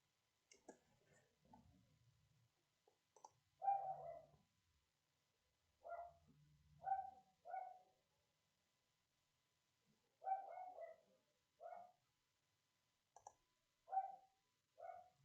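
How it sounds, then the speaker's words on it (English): A dog barks behind a closed door, muffled and fairly distant, in short irregular bursts of one to three barks separated by quiet gaps. "My dog is being obnoxious now,"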